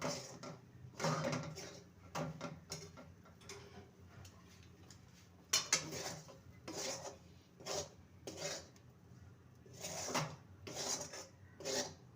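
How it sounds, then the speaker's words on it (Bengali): Rice flour stirred into boiling water in a pot for monda pithe, heard as a quiet run of scraping and tapping of a spoon against the pot, in uneven bursts, with no talk. "এবার চালের গুঁড়িটা দিয়ে দেবো ভালো করে মিশিয়ে নেব"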